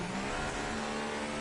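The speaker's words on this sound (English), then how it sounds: "we have a car leaving" A Formula 2 race car pulls away from the pits, its engine revving steadily and loud with a dense mechanical whine, no voices over it.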